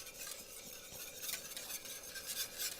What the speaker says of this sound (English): I'm gonna mix that a little. I have a whisk right here